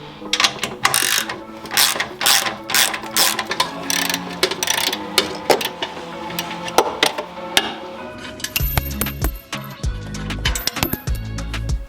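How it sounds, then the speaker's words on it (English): Ratchet wrench loosening a downpipe bolt under a manual Toyota Supra during a high-flow catted downpipe install, heard as dense rapid clicking and metallic ticking in bursts, close and fairly loud, with heavier clunks near the end. "we're gonna get underneath the car and start working on unbolting the actual downpipe"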